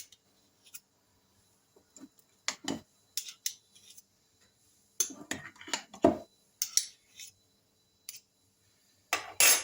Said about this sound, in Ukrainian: І знову ж таки гарненько розмішую.